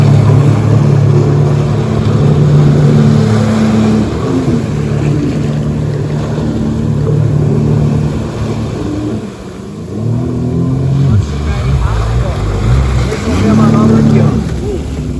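A 2021 Sea-Doo GTX 230 jet ski engine rumbles at low revs while maneuvering in reverse on the water, rising and falling with throttle changes, someone talking over the steady motor drone.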